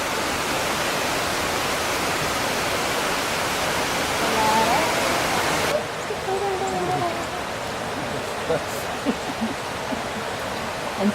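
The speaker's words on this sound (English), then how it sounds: "Wise Falls is still beautiful. The falls is not as rough." Ys Falls in St Elizabeth, Jamaica roars as a steady broadband rush of falling water. The sound is close and constant and becomes slightly quieter partway through. Faint voices and a few small knocks sit beneath it.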